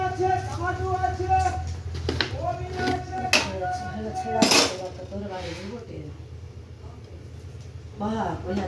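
A wok set onto a gas stove in a home kitchen: several close metallic clanks and scrapes of cookware, with a sharper knock in the middle, while someone talks throughout.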